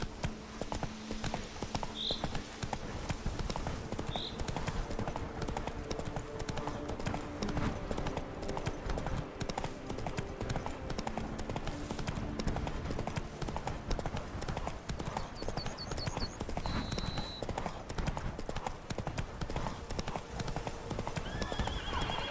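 Steady clip-clop of horse hooves galloping in The Witcher 3 (Blood and Wine), continuous and close throughout, with occasional whinnies and faint game ambience beneath.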